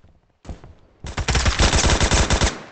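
Automatic gunfire in the online shooter Phantom Forces, with a short burst followed by a longer sustained rapid volley of loud, close shots.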